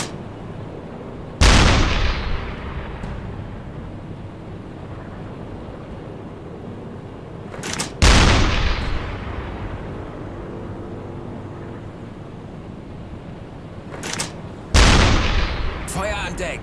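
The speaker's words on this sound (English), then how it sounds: "Let's get the deck gun going." A submarine deck gun fires at a ship in the naval game UBOAT, three loud booming shots spaced several seconds apart, each rolling off into a long decay over a steady wash of sea and wind.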